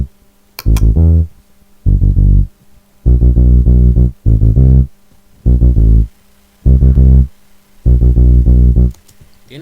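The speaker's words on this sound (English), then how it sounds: "the bass and guitar is EB fretless bass, and it sounds like this" EB fretless bass plugin in FL Studio plays a sad Afrobeat bassline: deep, rounded, sliding notes in short phrases with gaps between, loud and alone with a faint steady hum underneath.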